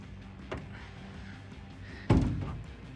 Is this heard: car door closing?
yes